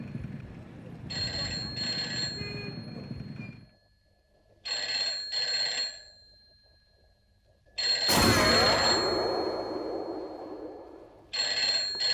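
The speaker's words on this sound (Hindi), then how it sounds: "तू कटरा फोन कर, इंस्पेक्टर भट्ट से बात कर" A telephone rings in repeated bursts of bright trilling bells separated by pauses, fairly loud and close, with a sharp louder burst partway through.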